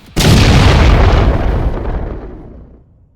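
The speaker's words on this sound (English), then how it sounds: "with one massive fusion bomb, we ended this battle" A massive fusion bomb explodes in the video game RimWorld. It hits as one sudden, very loud, deep boom that rolls on and slowly fades over about three seconds, with no voices.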